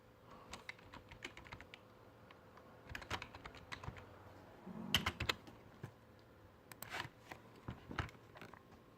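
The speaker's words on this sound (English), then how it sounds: "So I just typed in Blood Bowl 2, hit search." Keys clack on a computer keyboard as a search for Blood Bowl 2 is typed, in bursts of close, crisp taps with short pauses, ending in a firmer press.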